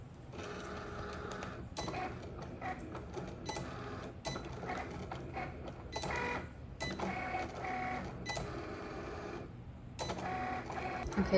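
A Cricut machine cuts a heat transfer vinyl design, a quiet mechanical whir with repeated shuttling passes and brief pauses, steady and close.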